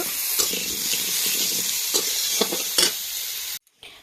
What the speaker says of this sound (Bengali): এবারে ফুলকপিগুলো তুলে নিয়ে শিম আলু কষে নিচ্ছি।